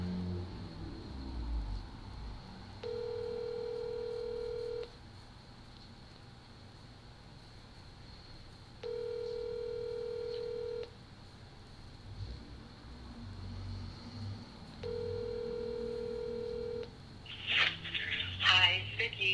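A telephone call being placed on a live broadcast: three evenly spaced long ringback tones, each about two seconds with pauses between, steady over background noise, followed by a brief burst of other sound at the end.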